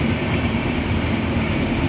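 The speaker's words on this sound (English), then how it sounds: "It is our Indian Railways passing through this." An Indian Railways train rolls past close by, a loud, steady, unbroken rumble of wheels and cars with no break in the sound.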